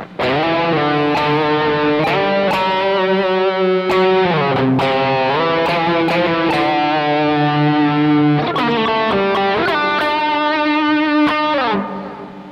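JCraft Stratocaster electric guitar played through a Valeton analog delay pedal set to rhythm delay, a distorted melodic lead with sustained notes and short echo trails, loud and continuous with no talking.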